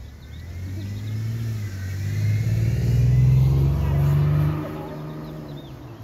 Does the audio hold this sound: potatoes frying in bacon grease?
no